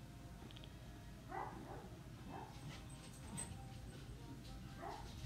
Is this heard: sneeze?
no